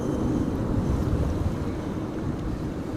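An Air France passenger jet arriving on runway 27 at Amsterdam Schiphol in high winds gives a steady low roar and rumble, heavily buffeted by wind noise on the microphone.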